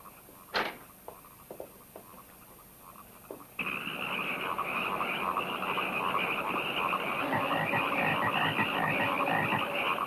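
Many frogs croak in a dense, loud chorus that starts abruptly and keeps going, with a few scattered croaks before it, in the 1972 film Frogs.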